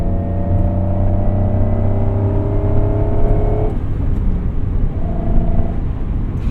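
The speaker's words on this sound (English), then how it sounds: "I just want to keep hearing the engine as it rings out." A 1996 Acura NSX engine with a light flywheel revs high and steady, then drops off abruptly before climbing briefly again, loud and close with road rumble underneath.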